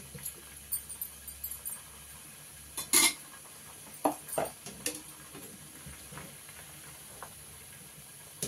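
Soya chunks being flipped in a frying pan as they fry for soya 65, with scattered metal spoon scrapes and clanks over a soft oil sizzle, including one louder clatter partway through.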